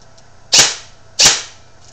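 Two sharp airsoft shots from an ARP9 rifle fired through a chronograph, spaced under a second apart, each a loud crisp crack with a short hissy tail, close and alone with no talk.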